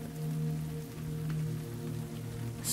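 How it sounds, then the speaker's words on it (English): Steady falling rain makes a soft, even hiss with a low droning hum beneath it, calm and continuous throughout. "a soundtrack of falling rain and a crackling fire usher you"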